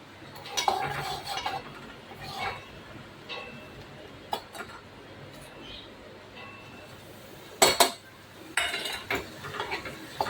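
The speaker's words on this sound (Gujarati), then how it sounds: "મસ્ત હલાઈ નાખીએ આપણે." Khoya is stirred into sugar syrup in a pan, with a soft bubbling background punctuated by scattered metallic clinks and scrapes of a utensil against the pan, including one louder knock near the end.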